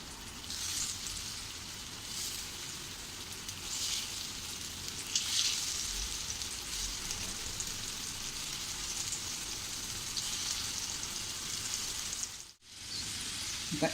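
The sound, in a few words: potato slices frying in oil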